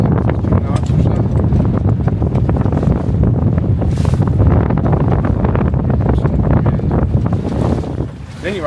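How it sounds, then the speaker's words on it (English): Strong wind of about 15 knots, gusting to 25, roars steadily across the microphone with the rush of water against a moving Catalina 22 sailboat under reefed mainsail, gusting throughout with no letup. "with 15 knots of wind, the bigger gusts, with just the main, reef main"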